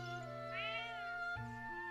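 A cartoonish cat meows in a Zelda video game, one drawn-out, wavering call rising and falling against steady game music, clear and close.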